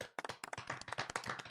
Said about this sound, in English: Do we have the golf clap?